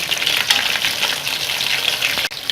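Fish pieces with a crispy masala coating frying in hot oil, a steady close sizzle with bright crackle throughout, briefly dipping near the end, no voices.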